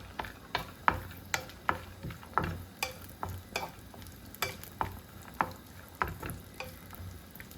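Cashew pieces fry in ghee in the same pan used for roasting vermicelli, for a jaggery sago payasam. A steady run of sharp clinks and scrapes, about two per second, sounds close and moderately loud over a soft background sizzle.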